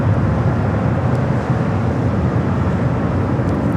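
A jumbo jet airliner takes off from runway 24 left at Los Angeles International Airport. It produces a loud, steady, broadband engine roar that holds constant throughout, with no voices.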